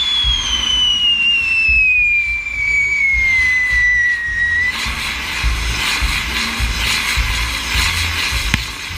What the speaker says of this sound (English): The fireworks were very impressive considering they were all homemade.